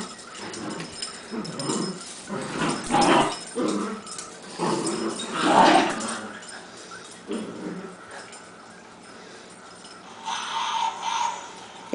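Two dogs wrestling and playing indoors, dragging each other around the house, with continuous close growls, whines and snarling grumbles that swell and fade over several seconds.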